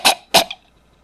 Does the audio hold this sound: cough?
yes